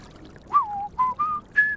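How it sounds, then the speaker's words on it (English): A video game character in High on Life whistles a short tune alone, four or five clear sustained notes stepping up in pitch over a quiet background. "I'm just gonna whistle to myself for a bit now"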